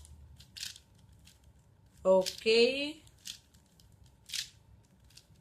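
A 4x4 Rubik's cube is twisted to shuffle it: sparse, crisp plastic clicks and turns, close up, with a single brief spoken word in the middle.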